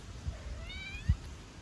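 A cat gives a single soft, wavering meow in a quiet room, faint and fairly close, with a small thump just after it.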